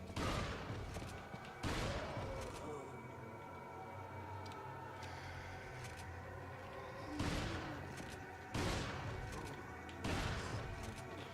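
Shotgun blasts in Resident Evil 4, with several sharp loud reports spaced a few seconds apart over a steady background of game ambience and clatter.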